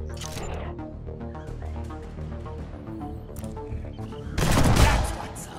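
Gunfire in the Mutant Year Zero: Road to Eden video game, with a burst of shots near the end over a game soundtrack, and a voice talking in the background.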